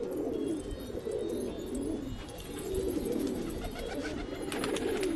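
Pigeons cooing steadily with bird calls over a constant outdoor hum; a continuous, moderately loud flock sound with no talking.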